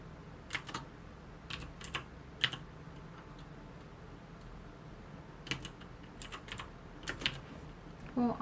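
Quiet bursts of computer keyboard typing while rigging a character in After Effects CC, scattered clusters of close clicks across the clip with a final heavier keypress for Enter, over a low steady room hum.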